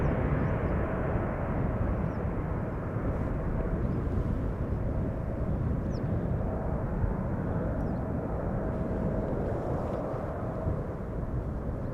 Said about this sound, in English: Pulling up already is the 777-300 ER going to Lima in Peru